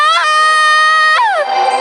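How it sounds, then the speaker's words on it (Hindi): A woman in a Hindi cartoon story lets out a loud, sustained, high-pitched scream of alarm, with the pitch jumping upward twice before sliding down and trailing off. "लेकिन अगले ही पल उसकी बीवी चिल्ला उठी।"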